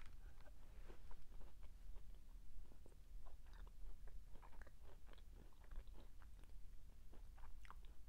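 Light chewing and biting of a soft cake with a cookie-like texture similar to a golden Oreo, repeated close and quiet mouth sounds with small crunchy clicks over a low steady background, no talk.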